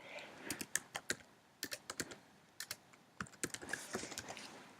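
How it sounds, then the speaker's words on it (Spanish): A command is typed on a computer keyboard: quick, irregular bursts of close key clicks with short pauses between them. "Vamos a teclear el comando explain."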